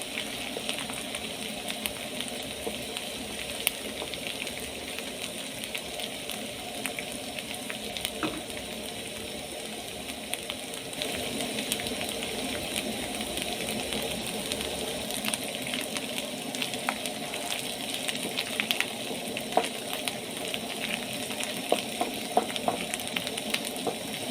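Onions frying in a pan until golden brown for a lentil stew, a steady, even sizzle that holds close and constant throughout with a few faint kitchen clinks.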